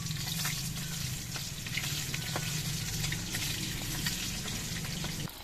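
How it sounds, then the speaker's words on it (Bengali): Egg pieces fry in mustard oil in a wok as they are turned, making a soft, steady bubbling sizzle with a low hum underneath and a few light clinks, heard without speech. "ডিমের পিসগুলোর 1 পিঠ ভাজা হয়ে যাওয়ার পর আমি উল্টে দিচ্ছি।"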